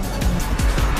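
An Alfa Romeo 4C sports car slides as its rear steps out, a loud, close, brief roar of engine and tyre noise with pulsing surges across about a second.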